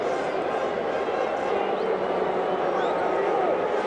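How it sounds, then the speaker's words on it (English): Baseball crowd at the 1980 World Series Game 6 between the Royals and Phillies, a broad sustained roar of a big stadium audience under a broadcaster talking steadily. "Listen to this crowd"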